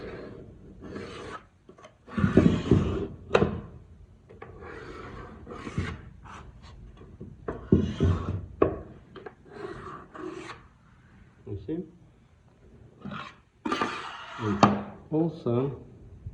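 A laminate floor board on a floating floor is scribed, with short, intermittent rasping and scraping strokes close by, mixed with a person talking.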